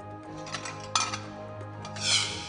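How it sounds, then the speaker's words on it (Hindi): Dishes clink and rattle inside a running household dishwasher in an American family's kitchen, a few scattered clinks over a steady low machine hum, with a brighter splash near the end. "अमेरिका के खुशालानी परिवार में बर्तन भी डिश वॉशर यानी मशीन में धुलते हैं"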